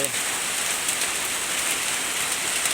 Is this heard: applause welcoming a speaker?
no